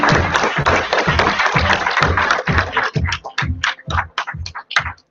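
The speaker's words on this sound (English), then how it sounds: "Let's give them a round of applause." An audience at a sales company's regional event claps, starting as full dense applause and thinning into scattered individual claps as it dies down.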